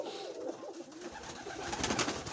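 Pigeons kept by a hobby breeder coo softly in a loft, a low murmuring warble that swells slightly louder toward the end, with no talk over it.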